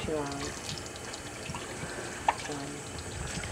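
Warm water running from a tap, a soft continuous splashing stream at close range with small clinks and knocks, while people talk quietly in the room.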